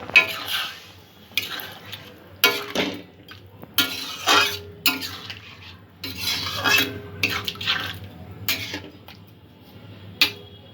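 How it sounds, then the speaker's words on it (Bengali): Raw mango with sugar and added water cooks in a pan for chutney. Intermittent bursts of metal utensils clatter and scrape against the pan between quiet gaps, over a soft simmering background. "জল দিয়ে আমটা সেদ্ধ করে নেব।"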